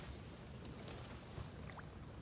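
Steady low motor rumble of motorboats trolling nearby, with wind and water noise throughout; no talking.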